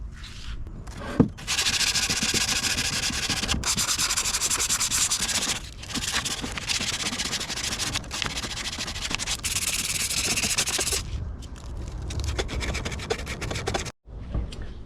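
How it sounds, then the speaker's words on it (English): Old red paint being scuffed off an engine valve cover with 320 grit sandpaper, a loud continuous close-up rasping rub in long strokes with a few brief pauses, no talk. "I'm just going to give it a quick sand with some 320 grit just to get it all kind of scuffed and get this old red paint off."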